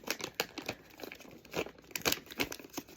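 Wrapping paper crinkling and tearing in quick irregular bursts as a Christmas present is unwrapped at home, close and fairly loud, with no talk over it.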